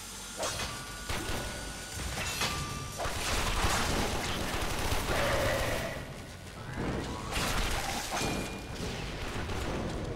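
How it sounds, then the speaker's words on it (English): Gunfire and explosions from the video game Warframe rumble and crackle in a dense, continuous barrage, with booming bursts and a brief lull near the middle. "What was that explosion?"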